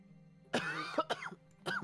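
A cough with a throat-clearing edge during a tabletop fantasy game session, a few loud rasping bursts over roughly a second with a final hack after a pause, close to the microphone and not mixed with speech.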